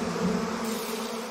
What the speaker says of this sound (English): Oh, aren't those honeybees?